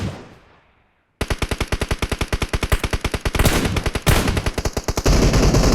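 A machine gun fires in PUBG Mobile, loud rapid bursts of evenly spaced shots that run almost continuously after a short quiet start.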